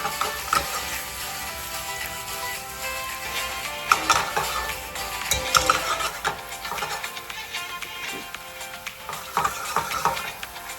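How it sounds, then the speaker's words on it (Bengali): Potatoes and aubergine frying in a pan for a fenugreek-leaf bhaji, a steady close sizzle with scraping stirs and occasional clinks of a utensil against the pan. "এবারে আলু দিয়ে, বেগুন দিয়ে 3 থেকে 4 মিনিট রান্না করুন"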